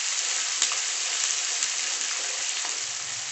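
Onions frying in hot oil for Maharashtrian thin poha chivda, a steady close hiss and sizzle with a few soft stirring clicks throughout.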